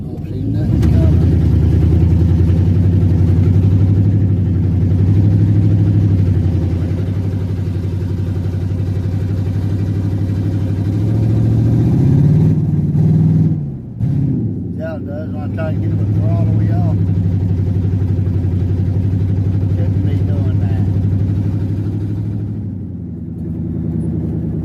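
A vehicle engine drones loud and steady, rising and falling as throttle is applied, with a brief dip partway through before it rumbles on again, close by and continuous.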